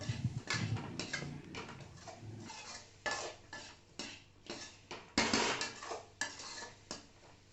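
A spoon stirs and mixes cooked green onion curry with garam masala in a pan, repeated scraping clinks of metal on metal in an uneven rhythm, close and fairly loud, with no talking.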